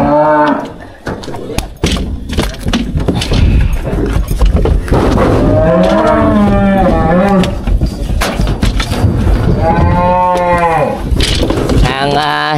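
Cattle being delivered in Vietnam moo loudly and repeatedly, long drawn-out calls close by, over a busy background of knocks and thuds, with no speech.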